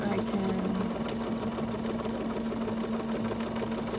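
A Bernina sewing machine runs steadily while stitching a wide zigzag, giving a continuous close mechanical whir with a constant hum and no break across the clip.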